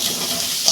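Cauliflower florets frying in hot oil with a little salt and turmeric, a steady close sizzle and hiss throughout with no talking.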